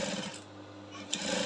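A sewing machine topstitching the seams of a low-waist basque corset, a close, steady mechanical whir that drops out briefly in the middle and then resumes, with no voices.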